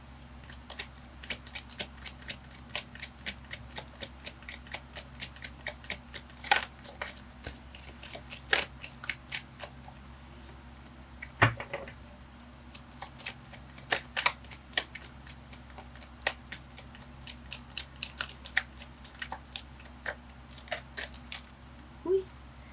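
Tarot cards are shuffled by hand, a long run of quick crisp riffling snaps and flicks in an irregular rhythm, close and fairly soft, continuing without talk.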